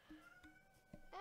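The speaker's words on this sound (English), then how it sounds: "That's my cat." A house cat meows close up, giving a few short, quiet calls followed by a louder, rising meow at the end, with no talking.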